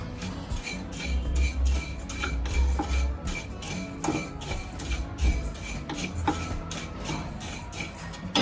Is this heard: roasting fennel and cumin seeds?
yes